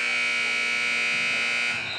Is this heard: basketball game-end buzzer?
yes